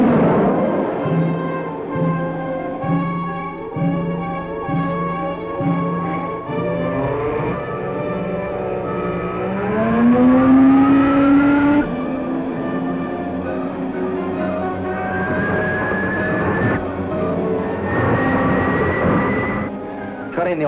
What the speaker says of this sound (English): Captain Video and the Ranger race toward Atoma in their space rocket